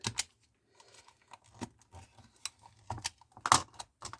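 A blade snips and cuts wire for a solar/grid switch-over contact, giving a series of short, close clicks and snaps with quiet gaps between them.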